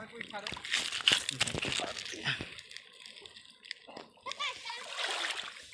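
A flooded village river rushes, splashes and churns noisily, a continuous rough wash, with people talking over it.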